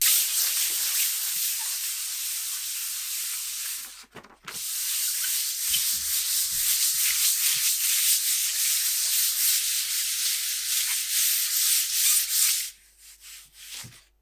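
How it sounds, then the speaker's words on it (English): Sandpaper rubs dry paint on a linoleum block in a steady, close, hissing scrape. It pauses briefly about a third of the way in, then resumes and ends in a few short strokes. "I sand it down to make sure there are no bumps"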